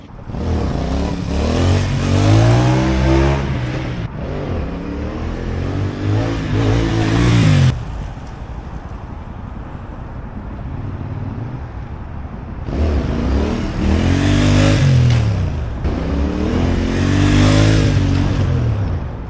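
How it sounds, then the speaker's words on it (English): A CFMOTO 450NK motorcycle with 22,000 km revs hard in first gear during wheelies, loud and close, with rising and falling engine pitch in two long bursts separated by a quieter idle stretch. "As I'm doing my first gear wheelies, the bike feels way too stiff."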